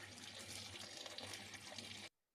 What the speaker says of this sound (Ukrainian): Заливаю рибу кипяченою водою